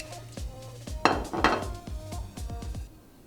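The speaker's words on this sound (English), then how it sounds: "And I'm just gonna mix my powder here" Powdered food colouring is mixed with vodka in a small dish for a buttercream marble geode cake, giving a quick run of close, light clinks and scrapes with a few louder taps near the middle.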